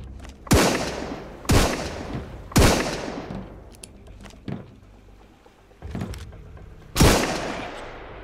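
Gunfire in the survival game Sunkenland: five loud, sharp shots spaced irregularly about a second apart, each with a long decaying echo tail, and no talking.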